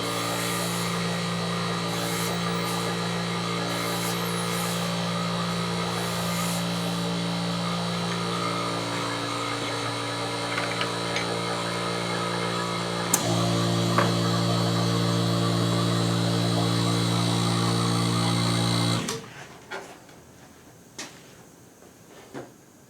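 An engine idles steadily with a Midland Ross vacuum brake booster for a 1970 Dodge Charger with drum brakes hooked up, a loud, even hum with occasional clicks and clunks, then it shuts off abruptly near the end, leaving a quiet room.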